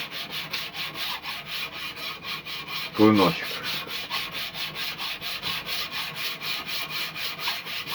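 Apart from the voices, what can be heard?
sanding a knife blade made from a bullet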